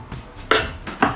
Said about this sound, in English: Keep chopping until you're happy that it's fine for you to eat